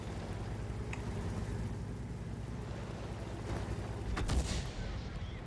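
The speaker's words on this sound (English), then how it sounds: "we just got artillery here aiming at me" Artillery fire in the World of Tanks video game: a sharp blast near the end cuts through steady low engine rumble and battlefield noise, with faint shot-like bursts earlier in the mix.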